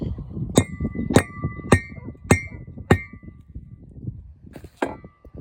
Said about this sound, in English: Now, let me fetch the hammer.